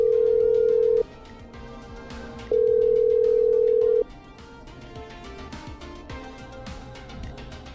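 A telephone in the video game Killer Frequency sounds a steady ringback tone in two long pulses separated by a pause, loud and clean, followed by quieter background game sounds.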